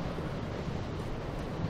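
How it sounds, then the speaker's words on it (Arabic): Wind blowing at a high, exposed spot in Dark Souls 3, a steady, even rush of air that holds without pause and without any voices. "صوت الرياح"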